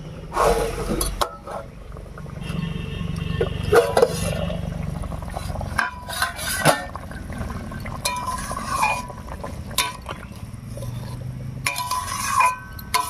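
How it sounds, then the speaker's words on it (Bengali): A metal lid is lifted off a cooking pot of simmering banana-stem curry, with scattered clinks and clanks of cookware and utensils spread across a quiet kitchen background. "এবার ঢাকা তুলে নিচ্ছি"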